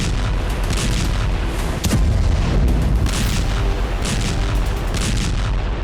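Heavy booming explosions and artillery-like blasts from overnight attacks on cities in western Russia, a dense, continuous roar of blasts with one sharper crack standing out early on.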